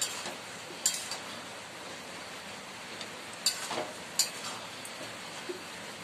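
Stirring a vegetarian mixture of ginger paste and a splash of water while cooking, a soft, steady sizzling hiss broken by a few sharp utensil clinks, fairly faint, with no talk.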